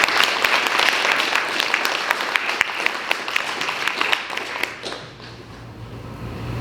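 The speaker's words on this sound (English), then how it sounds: "Let's give a round of applause to all the elected officials here today who are pushing for climate action." A room of people at a youth climate action holiday party applauds elected officials, producing dense, lively clapping that carries for about five seconds before fading to a quiet hum.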